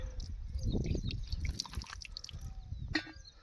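Water splashes and drips unevenly for a few seconds, with small trickling sounds and a brief splash near the end.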